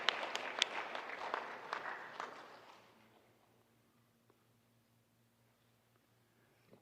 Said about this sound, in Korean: 박수해 주는 거 맞겠습니다